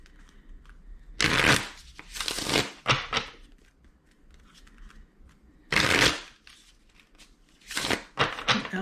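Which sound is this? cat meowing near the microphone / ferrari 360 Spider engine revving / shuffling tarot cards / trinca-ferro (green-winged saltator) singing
shuffling tarot cards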